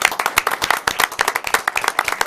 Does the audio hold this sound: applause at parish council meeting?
yes